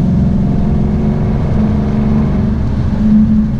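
A 2018 Shelby GT350's V8 rumbles deeply and steadily at idle with a slight swell near the end, loud and close, no voices.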